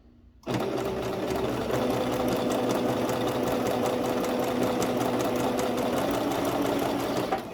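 A domestic sewing machine with an edge guide runs steadily at speed, stitching fabric for a double-sided placemat cover, with a loud, even mechanical whir and rapid needle chatter that starts abruptly and carries on without a break.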